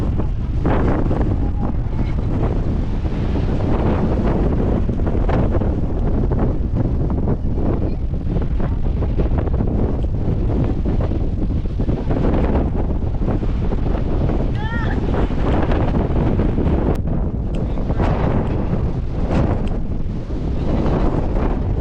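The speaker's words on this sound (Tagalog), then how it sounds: "Lakas po na hangin." Strong wind on a mountaintop at night, roaring and buffeting straight into the microphone in a constant, heavy rumble with gusty swells throughout.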